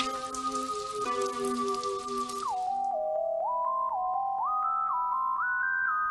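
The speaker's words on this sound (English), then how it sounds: "It's raining cats and dogs." Cartoon rain pattering during terrible weather, a dense steady patter that stops after about three seconds, followed by a rising sequence of bright musical tones.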